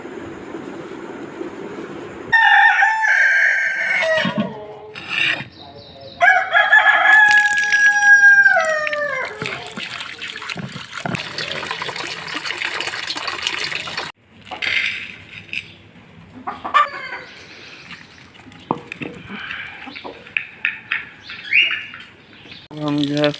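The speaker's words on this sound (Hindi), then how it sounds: "अब हम फाख्ता और मुर्गियों को खाना डालने जा रहे हैं।" Chickens, doves and cockatiels at feeding time, with loud rooster-like crowing and clucking calls and sharp bird chirps close by, bursts of rustling and clattering between, and a voice speaking.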